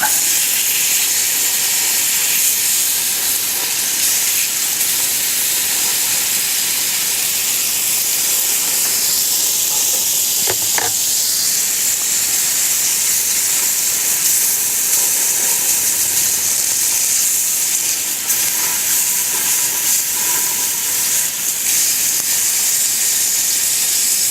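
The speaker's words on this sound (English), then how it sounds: "We want to sear the outside of this steak without overcooking it." A steak sears on a Weber grill at full heat, giving a loud, continuous hiss that holds steady throughout, with a brief faint metallic scrape partway through and no talking.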